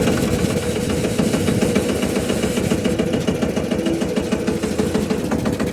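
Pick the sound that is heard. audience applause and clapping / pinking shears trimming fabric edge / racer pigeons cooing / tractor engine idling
tractor engine idling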